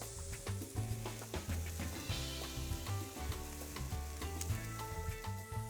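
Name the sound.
steak sizzling on the grill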